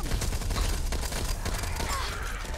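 Dense rapid gunfire in the Back 4 Blood video game, continuous crackling bursts of shots layered over each other, loud and chaotic throughout.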